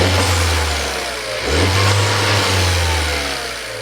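A Tata Harrier's 1.5-litre Hyperion turbo petrol engine revs: a steady, fairly loud mid-pitched drone that dips briefly, then climbs into a stronger rev and settles back, heard up close without talk.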